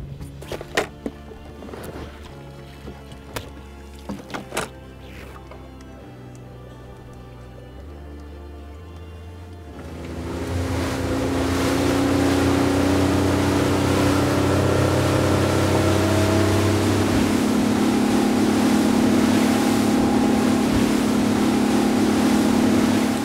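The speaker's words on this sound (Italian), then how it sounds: "accendiamo il motore." A fishing boat's motor starts at sea off Livorno: a few knocks and a low idle first, then the engine rises to a loud, steady running drone with water noise for the remaining seconds.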